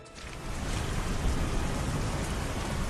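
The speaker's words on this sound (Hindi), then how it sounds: "बारिश इतनी तेज है कि पत्तों के नीचे भी पानी टपक रहा है।" Heavy rain falls steadily, a dense, loud, unbroken wash of noise with no voices.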